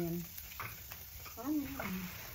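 Garlic sizzles faintly in oil in a pan, a soft steady hiss running beneath a voice speaking throughout.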